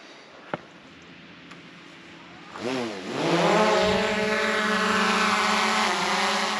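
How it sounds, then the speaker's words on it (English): A camera drone lifts off in Glen Clova, a Scottish glen. Its motors spin up with a rising, wavering whine, then settle into a steady, loud buzzing drone close by. "Well, that's the drone up."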